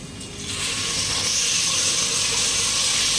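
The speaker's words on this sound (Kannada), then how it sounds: "ಚೆನ್ನಾಗಿ ಅದನ್ನ ಎಣ್ಣೆಯಲ್ಲಿ ಫ್ರೈ ಮಾಡ್ಕೊಳ್ಳಿ" Masala with garlic, cinnamon and cloves fries in hot oil for chicken biryani, a loud, continuous bright hiss and sizzle that swells within the first half second and then holds steady.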